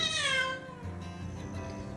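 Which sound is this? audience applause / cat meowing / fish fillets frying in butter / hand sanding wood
cat meowing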